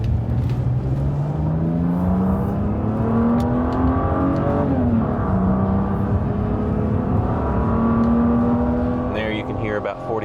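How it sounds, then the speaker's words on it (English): A Mercedes-Benz W124 E-Class straight-six engine revs up through several gears, pitch climbing and dropping between shifts, loud and sustained, with a voice briefly audible near the end. "run it through a few gears for you and let you listen, like I said, to that wonderful straight 6 sing"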